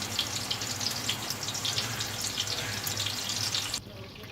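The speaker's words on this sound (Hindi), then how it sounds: "तवे पे मैंने ऑयल डाल के इसमें कबाब रख दिए हैं।" Chapli kebabs frying in oil on a flat griddle, a steady close sizzle and crackle that runs throughout and drops off sharply near the end.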